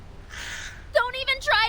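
A bird cries from afar in the Reverse 1999 video game, giving harsh crow-like caws in a short burst after a soft breathy rush of air.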